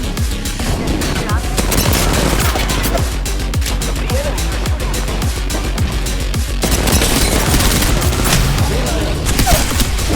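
Dense automatic gunfire rattles through a video game battle. Rapid bursts and booms keep up a loud, nonstop barrage for the whole stretch.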